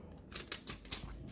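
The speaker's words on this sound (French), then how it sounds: "Un petit autocollant danseuse. Donc on va enlever le papier." Paper backing peeled off a small Cricut-cut vinyl dancer sticker, a brief close crinkly tearing rasp with a few sharper crackles, faint and alone.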